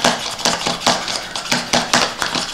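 Garlic being chopped in a pull-cord spin chopper, the blades whirring and clattering in rapid repeated bursts, close and loud with a steady rhythm of short pulls.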